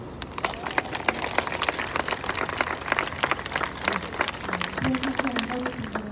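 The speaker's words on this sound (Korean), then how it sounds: "다시 한번 따뜻한 박수 부탁드리겠습니다" An audience at a memorial cultural event for the Aricell disaster victims claps warmly after a speech. The clapping is dense and steady, with a voice speaking over it near the end.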